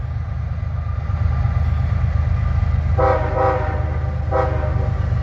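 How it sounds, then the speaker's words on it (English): A train horn sounds in a few short blasts over the steady low rumble of a passing train. "He's honking at us saying hello"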